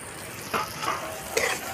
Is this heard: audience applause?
no